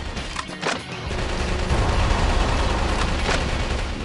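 A video game firefight on PS4 produces a continuous, dense volley of shots and booms, loud and close throughout with no pauses.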